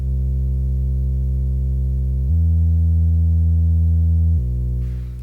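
A Serum sub bass synth, deep and steady, sustains a low note, then glides smoothly up to another pitch with portamento and slides back down, loud and alone before fading out at the end.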